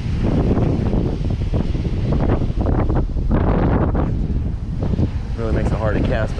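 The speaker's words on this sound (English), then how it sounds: "The wind is really kicking." Strong wind buffeting the microphone at a spillway during a fishing trip, a loud continuous roar and rumble throughout, with water noise beneath.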